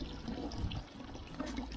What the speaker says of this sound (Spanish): Rellenando agua.